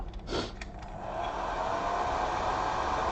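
Hair dryer blowing steadily to dry the base coat of paint on a miniature barbarian figure, a continuous close airy whir that swells slightly louder after the first second.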